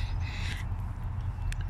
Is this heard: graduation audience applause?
no